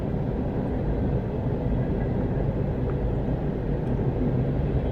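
Freight train of rail cars and tankers rolling past, a steady, loud, continuous low rumble with no breaks throughout, no voices.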